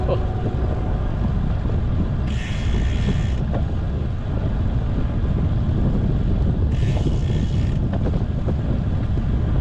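Strong wind buffets the microphone in a steady, loud roar on an outdoor ride, with two brief bursts of brighter hiss and no voices.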